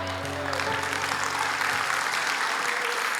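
Church congregation clapping during a sermon, a steady wash of applause under a low sustained tone in the room.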